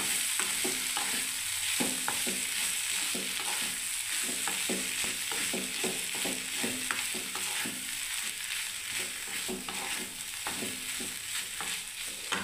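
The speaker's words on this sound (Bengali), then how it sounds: "এবার আমি সোয়াবিনটাকে বন্ধুরা ঢেলে দিলাম দেখুন" Boiled soybeans frying in a pan over a low gas flame for soybean paratha, with a steady sizzle and frequent scraping stir strokes throughout, close and fairly loud, no voices.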